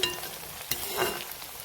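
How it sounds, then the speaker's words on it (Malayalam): Jackfruit fry is stirred in hot oil in a pan: a brief, close sizzle with a spatula scrape and a soft clatter in the middle. "ജസ്റ്റ് ഒന്ന് ഇളക്കി ഒന്ന് മറച്ചിട്ട് കൊടുക്കും"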